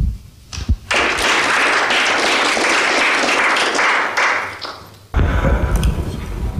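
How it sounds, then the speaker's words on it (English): A conference audience applauds a speaker at the DeepSec 2007 security conference. The clapping is dense and sustained for several seconds, loud and fairly steady, then tapers off briefly before a final burst. "So give him a nice round of applause."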